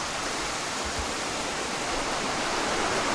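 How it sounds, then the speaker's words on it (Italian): A river rushes steadily below, a dense, continuous broadband wash of flowing water, loud and unbroken with no voices over it. "questo fiume che corre sotto"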